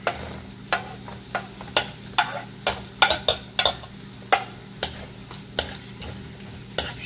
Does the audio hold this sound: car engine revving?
no